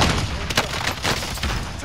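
A dense, continuous volley of video game gunfire, loud and close, with overlapping shots and a few heavier bangs across the short burst.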